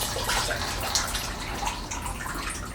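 Dirty coolant drains out of a Triumph Spitfire radiator, a continuous splashing, dripping trickle close by with irregular spatters and no talk.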